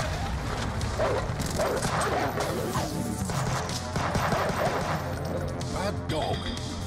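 A dog barks repeatedly in the run-and-gun video game Huntdown, sharp yips and barks mixed with game crashes and impacts, with a player talking over the action.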